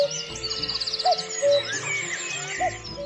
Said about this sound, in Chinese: 对，您没听错是布谷鸟的声音。